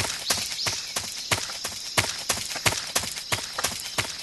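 Footsteps in Metal Gear Solid 3 HD on a new game plus playthrough, a steady run of sharp, evenly spaced thuds, close and fairly loud, with no talk over them.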